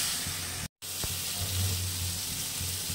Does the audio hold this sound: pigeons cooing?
no